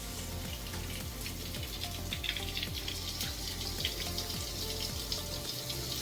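Warm tap water runs steadily from a faucet while someone splashes and wets their face. The flow is constant and fairly loud, with a low rhythmic thrumming beneath it and no talking.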